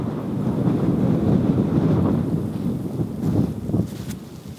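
Wind blows outdoors at a disc golf course beside a river, a continuous low rumbling buffet against the microphone that rises and falls in gusts, with no voices heard.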